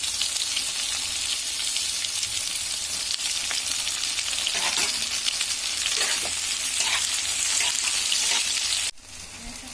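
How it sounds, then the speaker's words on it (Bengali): Chopped onions sizzle steadily in hot oil with cumin seeds in a wok, with occasional scraping stirs throughout; the frying hiss is close and even, dipping slightly near the end. "জিরে ভাজা হয়ে গেছে, দিয়ে দিচ্ছি পেঁয়াজ কুচি।"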